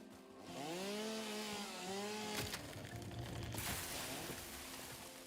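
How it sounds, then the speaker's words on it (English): A chainsaw in the video game Satisfactory revs with a steady buzzing whine and a deep ground-shaking rumble, dipping and rising in pitch as it bites, with a brief harsh burst partway through; no talking. "Why does a chainsaw just kind of make the whole ground rumble?"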